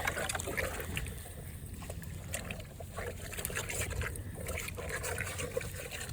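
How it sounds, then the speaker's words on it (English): Piglets slurping milk from a feeding pan on a pasture-raised farm, a continuous wet sloshing and sucking noise with small splashes, steady and close throughout. "They can suck down 5 gallons of milk in about a minute or less."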